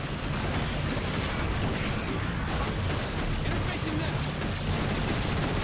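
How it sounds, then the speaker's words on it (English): Continuous heavy turret fire blasts at an enemy in Transformers: War for Cybertron, a dense, roaring wall of explosive shots and rumbling impacts with no break. "basically just keep hitting it with the turret"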